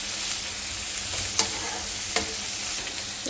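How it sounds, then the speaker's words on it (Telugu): Mustard seeds, cumin, broad beans and onion fry with a little turmeric in oil in a pan, giving a steady close hiss with two brief sharp crackles, and no one speaks. "ఆవాలు, జీలకర్ర, చిక్కుడుకాయ, ఉల్లిపాయ, లైట్గా పసుపు వేసుకోవాలి. ఒక 5 minutes వేయించుకోవాలి."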